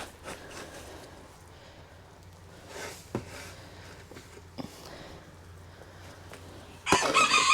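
Backyard chickens cluck softly against a steady outdoor hush on a homestead with raised garden beds, with a brief louder burst of noise near the end.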